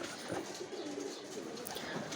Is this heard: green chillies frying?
no